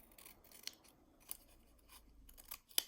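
Scissors cutting a paper triangle, several sharp close snips spaced apart in a very quiet room, with no talk.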